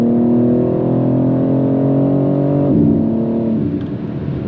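A BMW G82 M4 sports car accelerates hard from inside the cabin, its engine note climbing steadily, then dropping at a gear change before pulling again and easing off slightly.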